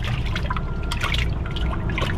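Live bait fish let out into a bucket of water, giving a continuous close sloshing and trickling with small splashes throughout.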